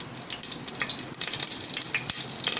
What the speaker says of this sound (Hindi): इसे हल्का हल्का फ्राई करेंगे, ज़्यादा जलाना नहीं है।